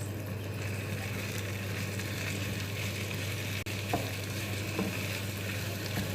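Tomato paste frying and being stirred in a pan, a dense steady sizzle over a low hum with one sharp click and a couple of faint scrapes, no voices.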